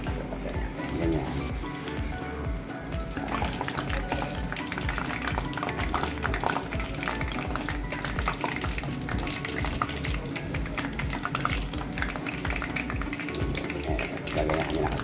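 Crispy pata, a pork leg, deep-frying in hot oil gives a dense, continuous crackling sizzle with scattered pops and spatters, fairly close and steady.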